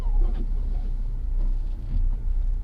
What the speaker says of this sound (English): the car is drifting around